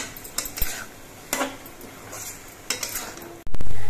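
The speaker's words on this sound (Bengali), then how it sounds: "কিশমিশ, খেজুর, আমসত্ত্ব, এগুলো দিয়ে নেড়ে চেড়ে অল্প কিছুক্ষণ রান্না করে নিতে হবে।" Tomato chutney with cashews, raisins, dates and mango leather being stirred in a pot, a few distinct scraping clinks of a spoon over a soft bubbling cook, ending in a sudden louder noise.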